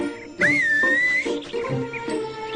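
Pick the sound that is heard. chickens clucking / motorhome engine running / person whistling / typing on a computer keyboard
person whistling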